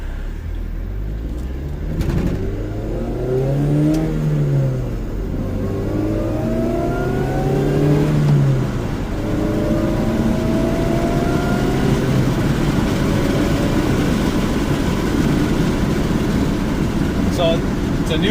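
Chevrolet Cobalt SS engine, fitted with a new clutch, revs while driving, climbing in pitch through several gear pulls before settling into a steady, loud cruise drone close by.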